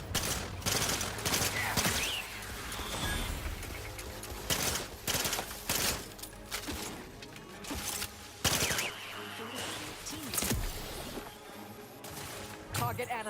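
Dense gunfire in the sci-fi video game The Outer Worlds 2, with rapid bursts of shots, crashes and impacts layered over game music and effects, and in-game voices speaking.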